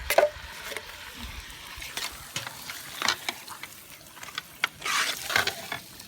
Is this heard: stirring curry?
yes